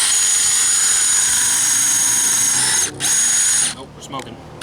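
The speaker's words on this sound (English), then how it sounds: "So this thing doesn't like big drill bits, as we can tell" A DeWalt Xtreme Subcompact 12-volt cordless drill with a big bit runs steadily with a high, loud whine, briefly cutting out, then stopping near the end as the bit works through material.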